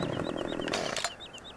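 Chainsaw cutting in the farming game Landwirtschafts-Simulator 15: a steady, loud buzzing whine for about a second, then it fades, with high chirping bird calls over the top.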